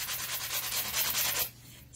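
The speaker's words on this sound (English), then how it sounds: "Sand off your edges" Close, rhythmic rasping of cut-up surf-prep sandpaper rubbing back and forth over a paper edge for over a second, then stopping abruptly.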